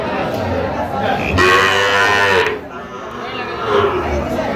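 Young bull calves and cattle moo at a Faridpur livestock market, one long loud bellow standing out over steady crowd chatter and nearby talking voices.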